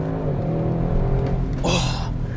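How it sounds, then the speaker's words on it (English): An Audi RS6 C8 under hard acceleration, heard as a loud, steady engine drone close by that rises in pitch with a brief higher whine near the end. "As soon as you press the throttle, it jumps forward, it explodes forward."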